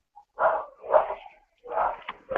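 A dog indoors barks several times in an uneven rhythm, each bark short and moderately loud, with brief silent gaps between them.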